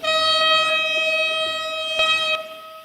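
A QJ steam locomotive's multi-chime horn in the Trainz railway simulator sounds as one loud, steady chord held for over two seconds, then cut off abruptly, leaving a faint tail.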